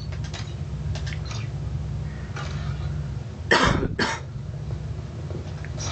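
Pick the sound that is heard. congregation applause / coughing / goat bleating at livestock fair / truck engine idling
coughing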